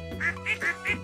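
Ducks in Stardew Valley give four quick, loud quacks in an even rhythm, close and distinct, with no voices.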